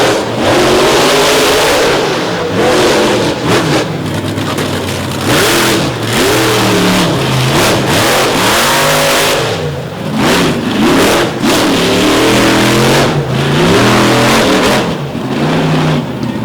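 A monster truck engine revs hard and roars continuously while the truck spins drifting donuts and slides toward the infield at a Monsters 'N' Megas arena show, loud and close with surging throttle swells.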